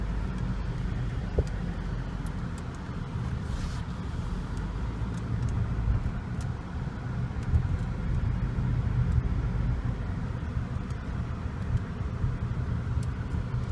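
Inside a 2015 Nissan Altima S on the move, the cabin holds only a low, steady road and tyre rumble with faint wind, quiet and even, with no voices.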